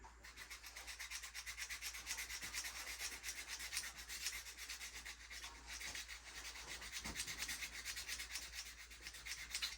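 Steady, continuous rubbing of a new, coarse sharpening stone being flattened, a close, even abrasive scrape that runs without pause and without speech, in a knife-maintenance setting with Morakniv knives.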